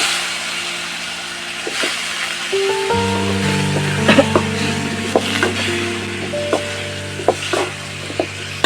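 Asafoetida, drumsticks and potatoes are dropped into a hot pan over a village wood-fired stove for a baby shrimp curry, and a steady sizzle follows with scattered clinks from stirring. A low hum runs underneath.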